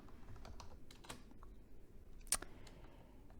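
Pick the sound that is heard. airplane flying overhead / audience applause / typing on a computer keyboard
typing on a computer keyboard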